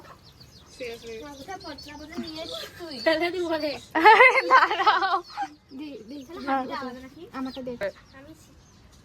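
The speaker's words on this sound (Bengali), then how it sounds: "একটা মুরগি ধরেছে, মুরগির বাচ্চা" Chicks cluck and peep in short bursts close by, mixed in with people talking over them.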